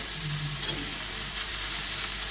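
Pavta beans roast with chutney in a pan, giving a continuous, even, close hiss of sizzling with no pauses and no talk.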